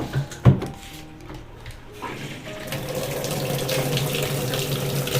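Tap water runs steadily into a newly bought washing machine set up at home, a rushing flow that starts after a couple of seconds and continues evenly and close by, with a brief knock near the start.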